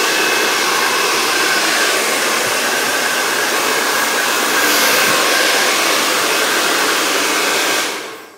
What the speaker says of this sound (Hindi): ये ड्रायर बहुत अच्छा है।